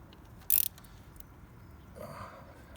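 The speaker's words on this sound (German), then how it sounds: "14er Ringschlüssel und die 12er Nuss. Können wir das Ganze schön" A ratchet fitted with a 12 mm socket tightens a bolt on the front wheel of a Honda Bali scooter, making a quick, close burst of several sharp ratcheting clicks, then a softer brief scrape, with no talking.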